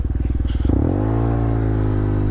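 Yamaha TMAX 560 scooter engine heard up close: a rapid lumpy idle chug that smooths into a steady, droning hum as revs settle, loud and alone without talk.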